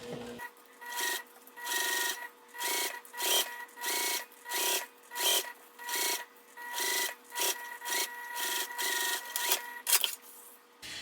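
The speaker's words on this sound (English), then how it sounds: "top stitch all the way down about 1/8 of an inch away from that folded edge" A sewing machine topstitches along the folded edge of a fabric travel pouch in rhythmic bursts of close mechanical whirring, each run lasting about a second with short pauses between, heard alone.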